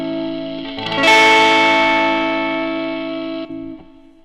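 An electric guitar plays through the drive distortion effect of an Axe-Fx III. A sustained distorted chord rings out, brightens sharply after a second and then holds, buzzy and thick, until it cuts off near the end.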